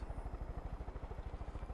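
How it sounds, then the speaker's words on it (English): An attack helicopter in the Far Cry video game thumps with fast, steady rotor chops, a low rhythmic pulse heard alone at moderate distance. "Guys, attack helicopter."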